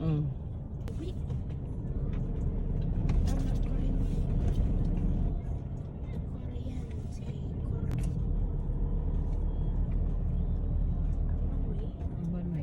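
Heavy road traffic near a cemetery during Undas 2024 in the Philippines: a constant low engine rumble of cars and buses with occasional brake hisses, while people talk nearby.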